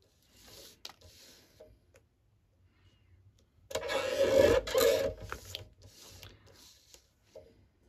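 A brief rasping cut of a paper trimmer slicing through paper, lasting about a second amid quieter handling and rustling noises.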